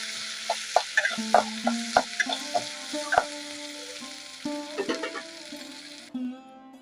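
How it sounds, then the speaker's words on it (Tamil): Oil sizzles steadily as onions fry in a pan, with clinks and scrapes of a spoon stirring close by; no talking. "இப்போ வெங்காயம் சேர்த்துக்கலாம் நல்லா வதங்க"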